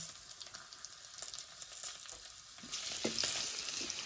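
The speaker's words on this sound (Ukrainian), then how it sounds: "Тепер на пательню перекладаю цибульку." Chopped onion hitting hot rendered pork lard in a frying pan while making dumplings, a steady broadband sizzle that swells louder and brighter partway through as the onion goes in, with a few soft pan clinks.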